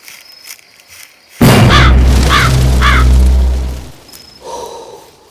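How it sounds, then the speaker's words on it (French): Three loud, harsh bird caws in a horror video game ring out in quick succession over a sudden heavy rumbling boom, then fade into quiet. "j'étais sûre qu'il allait y avoir un bruit d'oiseau à bout d'un moment"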